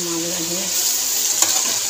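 Masala and meat roasting in a hot pot in a home kitchen, a steady, close sizzle with stirring clatter, with a brief voice at the start.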